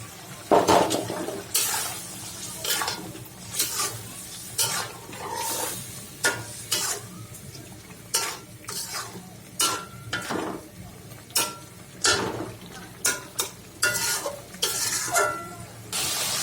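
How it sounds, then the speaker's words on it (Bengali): Chicken pieces tossed into spiced masala for a bottle gourd and broiler chicken curry, heard as repeated scraping stirs and clatter over a low wet sizzle, close and fairly loud throughout. "আমি দিয়ে দিব চিকেনগুলা।"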